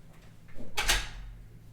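A door is opened for a cat, giving one brief scraping, rattling swing partway through, close and moderately loud against a quiet room background.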